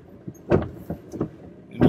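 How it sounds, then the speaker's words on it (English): Windshield wipers on a taxi sweep across the glass in the rain, giving close, repeated soft thumps and swishes at an uneven pace inside the car. "You can probably tell from the sound of the wipers that it's raining"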